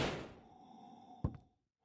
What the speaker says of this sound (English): The door is kicked open violently, and the heavy steps of the monster come in.